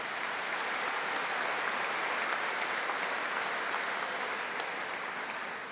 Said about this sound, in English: That's the first time I got a round of applause for that line.